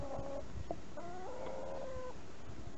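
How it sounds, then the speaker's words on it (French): Free-range hens in a June garden give short, close clucks and a few drawn-out, rising calls. No one talks, and the background is otherwise quiet. "Et les poules qui s'ébattent en toute liberté."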